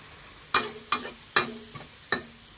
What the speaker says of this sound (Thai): ผัดกุ้งมันผัดง่ายไอ้มันสุกง่ายสุกเร็ว